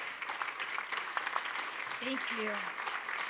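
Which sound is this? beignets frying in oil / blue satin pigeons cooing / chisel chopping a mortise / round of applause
round of applause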